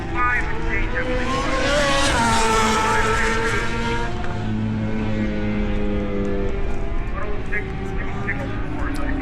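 Race cars roar down the back straightaway at Shannonville, a loud, sustained engine drone with shifting pitch, heard under a commentator's talk.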